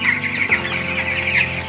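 Broiler chickens, 16 days old, cluck in a coop in a steady, dense chorus of overlapping calls, fairly loud and close, with no talk.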